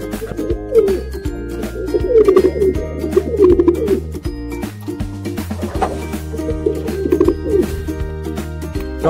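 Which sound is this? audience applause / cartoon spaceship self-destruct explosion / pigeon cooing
pigeon cooing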